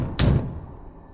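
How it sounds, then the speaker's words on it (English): A single heavy bang against a door, close and loud, with a short booming thud that decays into a dull rumble and no voices. "until I heard a bang on the door."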